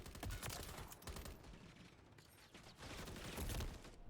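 Game gunfire in Call of Duty Modern Warfare 3 crackles in rapid, dense volleys through the whole stretch, fairly faint and with no talking over it.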